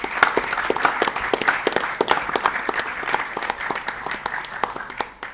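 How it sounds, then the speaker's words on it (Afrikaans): An audience gives a warm round of applause at the end of the final of a university students' impromptu debating competition, many hands clapping loudly and continuously before tapering slightly. "Ek dink ons kan vir hulle nog 'n lekker hande klap gee."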